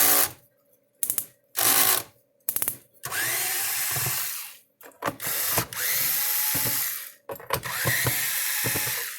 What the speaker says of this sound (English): let's take these screws out of it. This has 5 screws. Ones in the corners are Phillips.